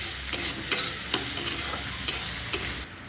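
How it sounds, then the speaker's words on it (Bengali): Onions fry in a pan with a pinch of salt and sugar for an egg and eggplant curry, giving a steady close sizzle broken by sharp spatula scrapes about every half second, with no voices. "পেঁয়াজটা এবার অনেকটাই ভাজা ভাজা হয়ে যাওয়ার পর"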